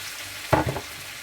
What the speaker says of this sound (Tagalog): Now it has already browned, so put the shrimp.